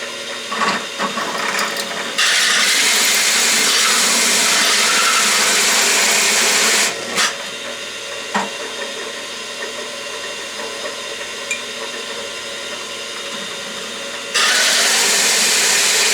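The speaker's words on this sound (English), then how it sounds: "a little drill press like this doesn't even begin to have the torque necessary" A small drill press whirs loudly while boring into metal, a steady grinding drone that drops away briefly midway, then resumes at full strength.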